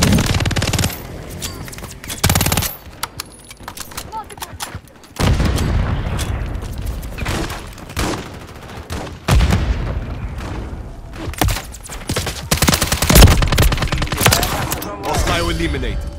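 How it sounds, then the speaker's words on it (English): Call of Duty gunfire: heavy bursts of machine-gun fire and booming shots come in waves over about sixteen seconds, loud and close, with brief quiet gaps and a voice talking at times underneath. "Taking fire."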